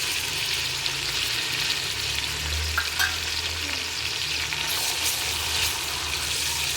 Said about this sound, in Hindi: टमाटर को भी इन चीज़ों में अच्छी तरह से भून लेंगे।